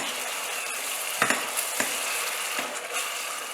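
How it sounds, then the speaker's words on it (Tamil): Ground masala paste for peas paneer pulao sautés in a pan, a steady close sizzle broken by a few scraping stirs of a spoon, with no talking. "இது பச்சையாக இருக்கிறதுனால முதல்ல இதை போட்டு வதக்கணும்"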